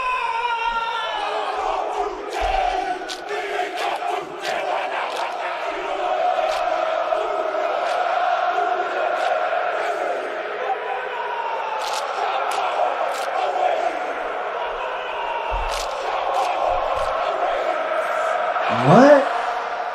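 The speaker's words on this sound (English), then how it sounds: "What is that crowd chanting?" Stadium crowd chanting in unison during a rugby haka (Kapa O Pango), a dense roar of many voices with rhythmic shouted bursts, loud and sustained throughout.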